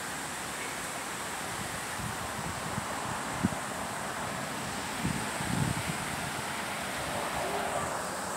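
Steady wind blowing outdoors on a trail, a continuous broadband rush with gusty buffeting across the microphone and occasional faint rustles, no one speaking.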